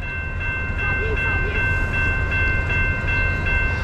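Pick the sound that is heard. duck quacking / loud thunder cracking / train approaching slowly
train approaching slowly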